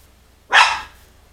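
One sharp bark from a small pet dog sounds close by, a single brief yelp over a faint low background hum.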